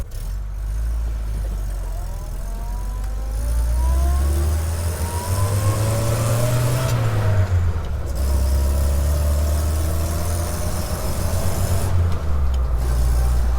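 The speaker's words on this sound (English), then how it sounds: "They make a bit of a whir as you go down the road" A steady road whir from off-road tyres on a 1953 Willys Jeep M38A1, under its engine rumble, rising and falling with speed, continuous and fairly close, with no talking.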